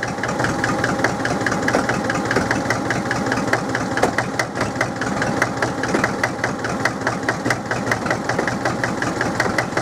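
The diesel engine of a Drott 100 loader runs rough and loud just after a cold start, with a continuous knocking clatter and a rapid uneven idle throughout.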